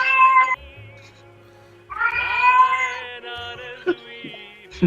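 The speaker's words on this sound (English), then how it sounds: "Our cat has an opinion on this." A domestic cat meows loudly and repeatedly at close range, long drawn-out cries broken by short gaps, the last few calls shorter and sharper, with no talking over them.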